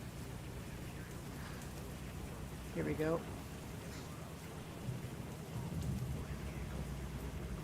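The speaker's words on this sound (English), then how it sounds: "Oh shoot, the rain." Rain hisses steadily in a storm in the Roblox game Twisted, with a brief low rumble of thunder partway through, while someone talks briefly over it.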